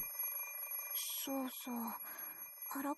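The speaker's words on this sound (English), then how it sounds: "It's a little annoying with the ringing in the background." Ringing from a Fate/Stay Night visual novel runs through the background, with repeated bright tones and ring bursts under a steady high hum, while a voice talks over it.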